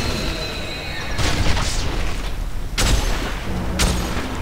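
Booming rocket blasts in the video game Dead Space 3, two or three heavy explosions with rumbling tails spaced a second or so apart, loud and close over a gritty game background.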